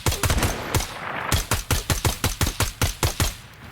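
Rapid gunfire from the video game Ground Branch, a close, loud string of sharp shots in quick bursts, roughly a dozen cracks in a steady rhythm.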